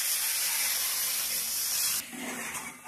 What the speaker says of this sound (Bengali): এখন কিন্তু আমি একটু জল দিয়ে দেব চিকেনটা সেদ্ধ হওয়ার জন্য